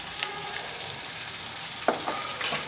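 Potato pieces, boiled chickpeas, mung beans and moth beans are mixed in a frying pan over a steady soft sizzle, with a few quick scraping strokes toward the end. No one talks.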